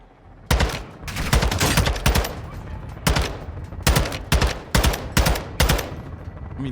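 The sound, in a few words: gunfire in a video game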